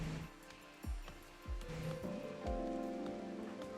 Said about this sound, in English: Ooh, it's freezing rain, too.